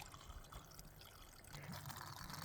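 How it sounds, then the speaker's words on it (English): Water trickling steadily from a piped spring in a mountain meadow along the Pacific Crest Trail, a continuous close splashing stream with no voices. "I have this nice little piped spring here."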